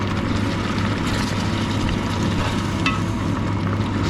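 Beef curry stirred in a pot just after beef stock goes in, a dense, continuous bubbling and sizzling wash with a low steady rumble beneath, close and fairly loud, no voices.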